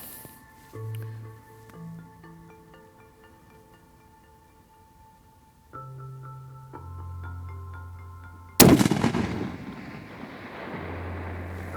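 A single Victrix Throne .375 CheyTac rifle shot cracks sharply about two-thirds through, outdoors at a long-range shooting session, its report rolling away over steady wind noise and a low hum.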